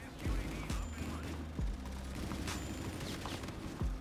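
Rapid bursts of video game gunfire from the Epic Auger weapon, a string of punchy shots over a dense, busy game soundscape with booming low thumps, steady and loud throughout.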